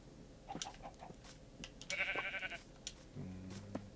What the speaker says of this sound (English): Now we breed the sheep real quick, and then we go.